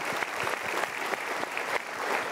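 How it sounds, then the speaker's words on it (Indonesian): An audience breaks into applause, a short burst of dense, steady clapping from many people. "Super, kita berikan tepuk tangan."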